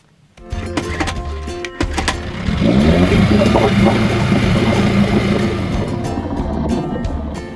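A small outboard engine on a raft starts up and runs steadily, its droning hum growing louder and holding close by, with rough sputtering undertones.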